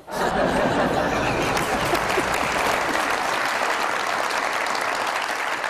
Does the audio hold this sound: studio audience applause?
yes